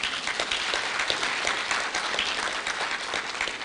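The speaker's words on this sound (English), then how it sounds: "Can we give her a clap?" Sustained audience applause at a women's project launch event, a dense, steady wash of many hands clapping throughout without a break.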